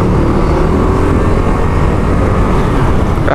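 A Kymco KRV Moto 180 chain-driven scooter engine drones steadily and loudly while riding, thick with rushing wind noise and no voices.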